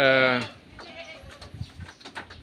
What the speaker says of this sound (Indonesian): kita melihat di sini ada kandang kambing yang begitu luas di sini